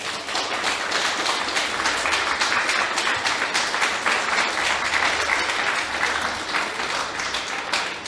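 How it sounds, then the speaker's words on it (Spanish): A church congregation bursts into loud, close applause, a dense and energetic clatter of many hands that stays strong and unbroken for about eight seconds. "Dele un aplauso al Rey."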